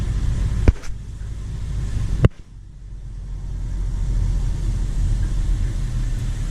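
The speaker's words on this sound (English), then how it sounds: "We've got trucks crossing up here." Trucks crossing a road in Taranaki, New Zealand, heard from a car: a steady low engine and road rumble with a couple of sharp clicks, then the rumble swells again as traffic passes.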